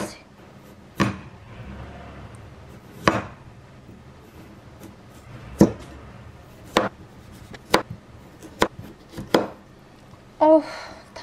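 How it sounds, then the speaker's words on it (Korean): Knife chopping cucumber and carrot on a board while preparing gimbap at home, a series of sharp, separate chops at an irregular pace with short gaps between them, fairly close and loud. "그동안 오이랑 당근이랑 이런 재료들을 준비를 해볼게요"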